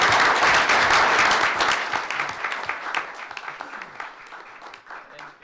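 Audience at a school board meeting applauds a seventh grader from a middle school being honored, loud dense clapping at first that thins and fades over several seconds, with some talk underneath.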